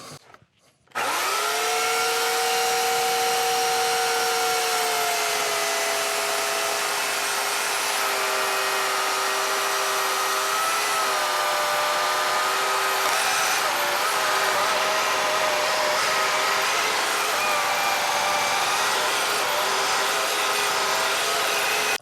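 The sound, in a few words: chainsaw cutting wood for woodturning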